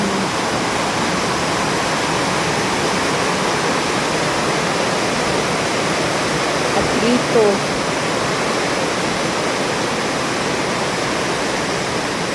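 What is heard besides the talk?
heavy rain downpour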